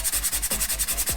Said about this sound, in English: I'm gonna go ahead and sand down these pads